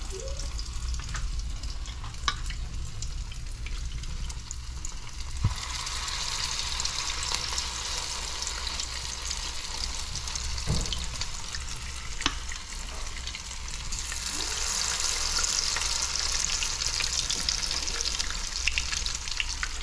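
Stuffed eggplant filling frying in hot oil over medium heat, a steady close sizzle running throughout with occasional clicks and stirring scrapes, with no voices.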